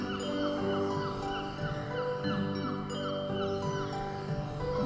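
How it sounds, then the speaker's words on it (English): Seaside sound effect of waves and seagulls processed through tape echo and a flanger, a dense swirling wash with repeated gull-like cries smeared by echo, loud and continuous throughout. "we've got some seaside sound effects, just some waves and some seagulls"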